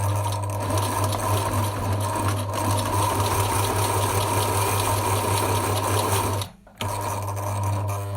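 A sewing machine stitches a fabric mask with a steady, loud motor hum and rapid needle clatter, stopping briefly for a moment before running on.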